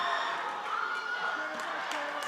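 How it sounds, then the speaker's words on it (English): A Kennedy home crowd cheers at a girls' varsity high school basketball game, a steady, moderately loud wash of voices and whoops that rises and holds as a roar throughout. "the Kennedy crowd goes wild"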